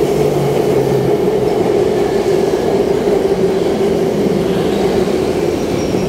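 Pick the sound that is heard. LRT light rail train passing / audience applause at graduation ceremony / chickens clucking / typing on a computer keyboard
LRT light rail train passing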